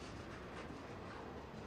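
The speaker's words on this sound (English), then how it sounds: "this train is made up of locomotives, boxcars, and tank cars" Freight train of locomotives, boxcars and tank cars rolling past as a steady, dense rumble with rail noise, close and continuous, no voices.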